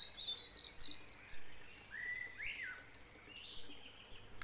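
Small backyard birds give several thin, high chirps and short whistled calls at moderate distance against a quiet outdoor background, with no talking.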